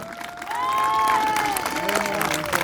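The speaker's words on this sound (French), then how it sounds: "On peut les applaudir. Tous les jeunes qui sont là." An outdoor crowd at a pension reform rally claps and cheers for young protesters, a dense, loud burst that holds steady after a quick rise, with voices mixed in.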